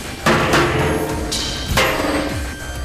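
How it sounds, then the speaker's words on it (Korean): A hammer strikes a heavy steel safe with a few loud, ringing metallic blows spaced about a second apart, each leaving a bright resonant decay. "혹시 모를 결함이나 허점을 발견하기 위해 있는 힘을 다해 망치질을 한다"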